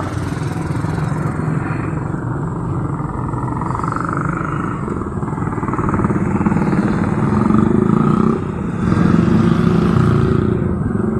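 Motorized tricycle on a ride through Solano, a steady rumbling engine drone close by with wind and road noise, surging louder in the last few seconds.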